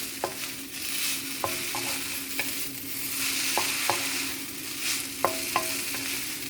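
Noodles sizzle steadily in a hot pan with shrimp and dark soy sauce, with repeated sharp clinks of a utensil stirring and tossing them, close up and with no talk.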